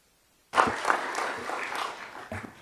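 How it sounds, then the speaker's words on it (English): Applause breaks out suddenly at a board of education meeting, with many people clapping at once. It is loud at first and then tapers off over a couple of seconds. "How about one more big round of applause for all of our tenure candidates and all of our retirees?"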